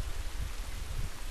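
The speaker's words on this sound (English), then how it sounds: "Well, it kind of covers up sound, so I guess the rain actually does do us some good." Steady rainfall in The Last of Us Remastered, a soft, even hiss of drops with a low rumbling undertone, continuous and fairly quiet, with no voices.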